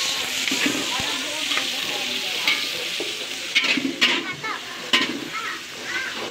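Food fries in a pan with a steady sizzle while a utensil stirs, clattering now and then against the metal; voices talk faintly in the background.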